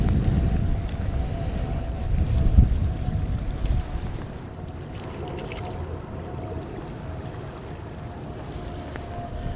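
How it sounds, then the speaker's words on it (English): A clay pipe from the River Thames foreshore, thought to be late 17th or early 18th century, gets rinsed in river water: a steady watery swish with wind noise, louder in the first few seconds, then a quieter, even wash. "Let's find somewhere to give it a little rinse."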